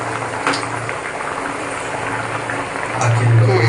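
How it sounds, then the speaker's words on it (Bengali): Cumin seeds and dried red chillies sizzle in hot oil for a khichuri tempering, a steady bubbling hiss that swells louder near the end. "এখন ফোড়ন ফুটে উঠেছে"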